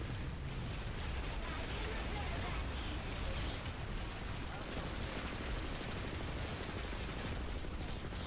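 Dense, continuous gunfire from Planetside 2 fills the scene, a steady roar of overlapping shots with a rough rain-like texture, with a player's voice occasionally under the din.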